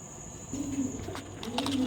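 Chila breed pigeons coo softly nearby, low throaty murmurs in two short runs over a faint background hum.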